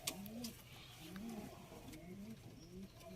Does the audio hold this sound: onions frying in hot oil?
no